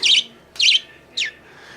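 A pet bird chirps three times in quick succession, bright high-pitched calls spaced about half a second apart, close by in a quiet indoor room near a bird room and play area, with the last call a sweeping downward note.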